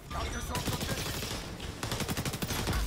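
Gunfire in a first-person shooter video game, a dense, loud run of rapid shots and bursts that continues almost without a break, with a short lull partway through.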